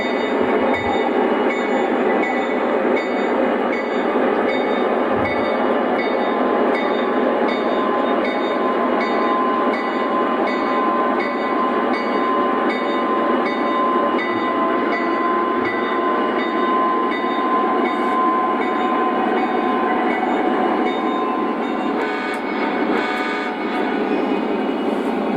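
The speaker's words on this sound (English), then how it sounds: "Here we have CSX uncouple the train and get it ready for their Conahey Rail locomotives." An O gauge model CSX freight train runs steadily along layout track, giving a continuous, even mechanical rumble and rail whir. The sound holds at a constant level from start to finish, with no voices.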